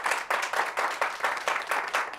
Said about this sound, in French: Je voudrais des applaudissements.